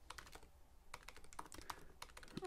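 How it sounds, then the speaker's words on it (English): Keys clatter on a computer keyboard during quiet typing, irregular bursts of clicks in quick runs with short gaps, close and faint, with no talking. "this is awful typing"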